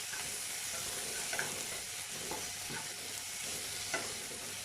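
Tomatoes and onions seasoned with salt are stirred in a frying pan, a soft steady sizzle under several light, irregular spoon scrapes.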